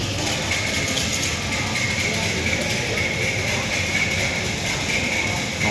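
A continuous rumbling clatter of a train moving through the Maeklong Railway Market in Samut Songkhram, Thailand, steady and fairly loud throughout, with a faint high whine riding above the rolling noise.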